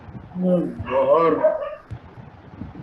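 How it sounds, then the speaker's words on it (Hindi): A single short dog bark or whiny yelp up close, with speech-like tones around it. "तो भौंकने की आवाज आ रही है।"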